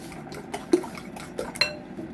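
Olive oil being stirred into carrot cake batter in a mixing bowl for a Nutrioven bake, giving a few soft clinks of a utensil against the bowl amid quiet scraping, with no talking.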